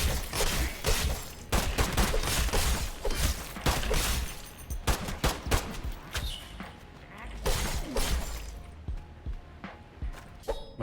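Gunfire in a video game, with rapid bursts of shots and sharp impacts mixed with shattering and clattering effects, dense and busy throughout at a moderate loudness.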